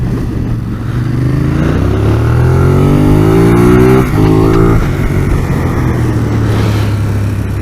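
A Ducati Monster 821 motorcycle engine revs up through rising pitches as it accelerates in first gear, loud and close, with a gearshift dip midway and strong wind noise throughout.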